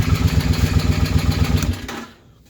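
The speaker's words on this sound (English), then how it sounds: "Pretty low idle for a bike, but it's not like most bikes." A 2006 Suzuki Boulevard C50T motorcycle idles after a cold start in a garage, a steady low, loping thump with rhythmic pulses that cuts off near the end, leaving quiet.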